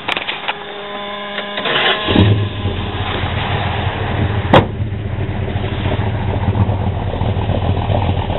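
A Plymouth 318 Roadrunner V8 with a Hughes whiplash cam cranks and then settles into a loud, lumpy idle that runs steadily up close, with a sharp click partway through.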